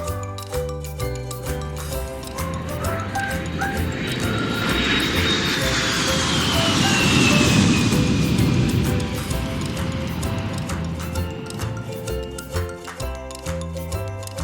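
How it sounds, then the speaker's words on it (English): An airplane engine drones loudly and steadily, swelling as it passes overhead and then fading slightly, with a high whine sliding down in pitch. "Aeroplane."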